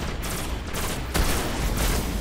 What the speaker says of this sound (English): Let's see what the shotgun does.